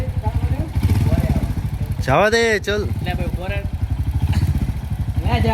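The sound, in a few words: Hunter 350 motorcycle engine while riding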